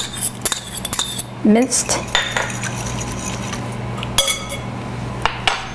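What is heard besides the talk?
whisking an egg in a bowl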